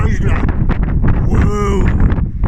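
Strong wind buffeting the microphone outdoors, producing loud, gusty low rumbling and rustling throughout while a person talks over it.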